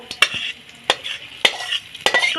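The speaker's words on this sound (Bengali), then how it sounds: "এই ডালে আমি এই পেঁয়াজ ভাজাটা দিয়ে দেবো" A spoon stirs fried onions into a plate of cooked red lentil dal, sounding as four sharp scraping clinks at uneven intervals over a soft sizzle, close by with no voices.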